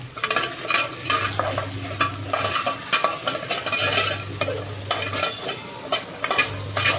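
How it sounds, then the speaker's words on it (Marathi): Garlic dry-roasts in a pan without oil for a clam curry, with constant rhythmic stirring and scraping over a crackling sizzle. The sound is close and fairly loud, with no voices. "लसूण टाकूया तर विदाऊट तेलाचा असाच भाजून घ्यायचा"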